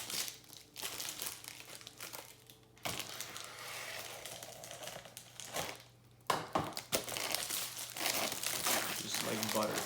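A package wrapped in plastic and paper being cut open with an X-Acto knife, with close crinkling and rustling, a couple of brief pauses, and louder tearing and crumpling toward the end.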